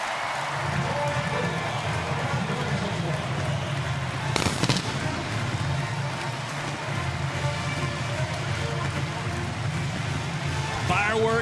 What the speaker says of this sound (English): Fireworks at the Palace.